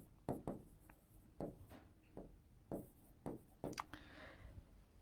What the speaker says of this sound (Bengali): এখানে লিখি মুখচ্ছবি